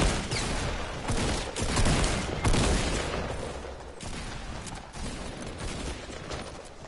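Rapid video game gunfire rattles in bursts, several sharp volleys close together with a brief lull near the middle, loud and up close with no voices over it.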